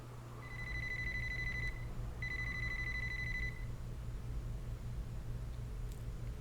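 Alarm clock ringing in the video game Lucid9, a steady high electronic beeping tone in two long bursts separated by a short gap, over a low hum, then stopping.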